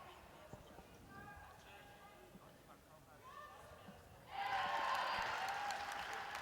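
Crowd at a netball match between Scotland and Australia bursting into cheers and applause after a shot, a sudden broad roar following quieter court sounds and commentary.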